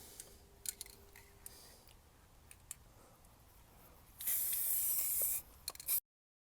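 A spray paint can with a flat fan nozzle, used to paint a car door on a Mk2 Golf GTI, gives one loud, steady hiss of about a second after some quiet clicks and handling noise.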